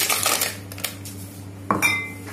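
Ice cubes drop into the jar of a juicer while litchi juice with sugar, lemon juice, mint leaves and black salt is prepared, giving several hard clinks and rattles, close and sharp, with brief quiet gaps between them.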